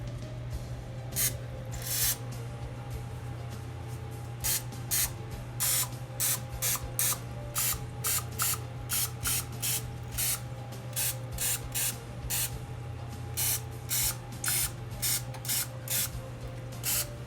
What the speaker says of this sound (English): Okay, now just another spray.